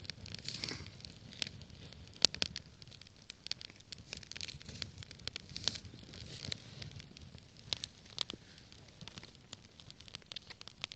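Freshly lit campfire of stacked wood logs burning outdoors, quiet and close with irregular sharp crackles and pops scattered over a low soft rustle.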